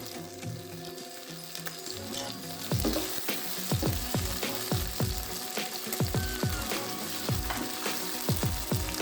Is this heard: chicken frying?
yes